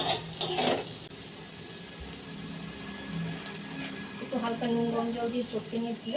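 Water sloshes and splashes as small tangra fish are washed by hand in lightly salted warm water, with a tap-like running sound, and a voice talks over it.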